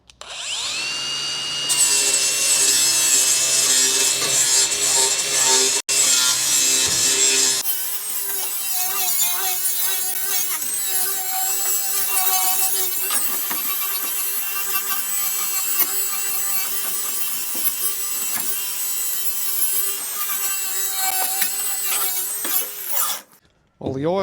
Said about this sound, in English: we're going to just give it a light sanding